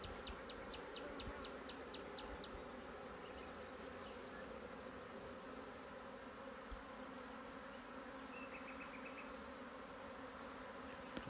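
Honeybees on a frame from a well-developed swarm hum in a faint, continuous buzz, with brief wing-flutter bursts close by and no talk.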